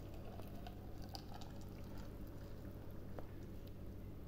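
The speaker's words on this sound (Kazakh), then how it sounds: "Содан кейін осылай қайнап тұрған ыссы суымызды банкіге құямыз." Boiling hot water poured steadily over cucumbers in a glass jar, a continuous close watery rush with faint splashy patter throughout.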